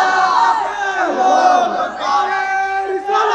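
A large crowd at an Islamic waz sermon chants the takbir in unison, loud sustained voices rising and falling in a couple of swelling waves.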